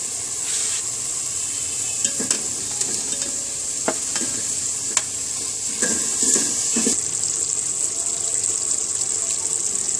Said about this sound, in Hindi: ये देखें दोस्तों, हमारा मसाला भुन गया है